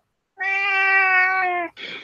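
A cat lets out one long, drawn-out meow up close, clear and fairly loud, followed right after by a brief, rougher second call, with no voices over it.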